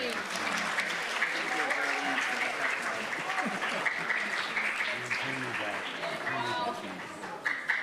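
Sustained applause from an audience at a citizenship challenge event, a steady wash of many hands clapping that holds evenly, then thins slightly near the end.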